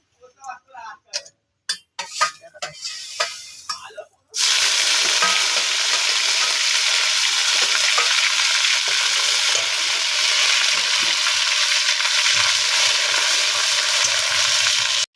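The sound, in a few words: ginger and cumin frying in hot oil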